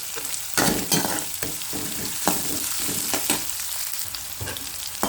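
Chopped onions sizzling and frying in a pan for vegetable uppittu, a steady hiss broken by repeated scraping stirs of a spatula, close and alone with no voices.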